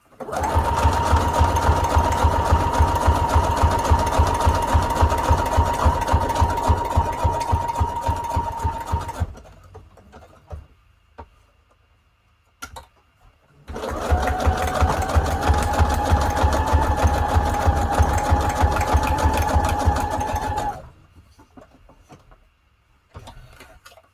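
A sewing machine stitches junk journal tags in two long rapid runs of close, loud mechanical chatter, separated by a quiet pause with faint handling clicks.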